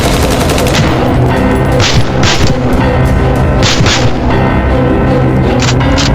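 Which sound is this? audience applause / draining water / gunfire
gunfire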